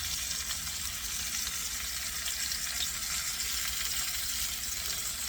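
Water runs steadily from a kitchen tap into a container for ironing, a constant close rushing with no talk.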